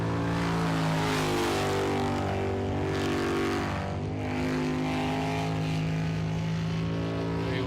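A V8 superboat jet boat races across the water, its engine a loud, sustained, throbbing roar with steady harmonics that dips slightly midway before surging on.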